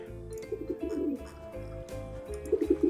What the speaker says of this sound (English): Oh, the pigeons just up here by themselves.